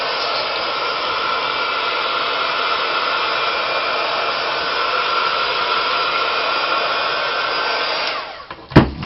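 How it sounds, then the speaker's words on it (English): A heat gun blows with a steady, loud airy roar for several seconds, then shuts off with a clunk near the end. "I'll just get my heat gun, so sorry for the sound."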